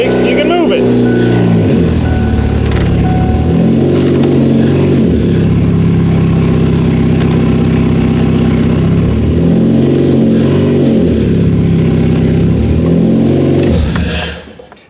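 A car engine idles and revs repeatedly in steady surges, close and loud, before cutting off abruptly at the end.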